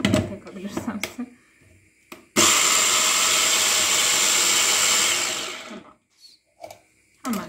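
A food processor blending a yogurt dip with pickles roars into a loud, steady motor whir that starts abruptly, runs for about three seconds and then winds down, with people talking before and after it.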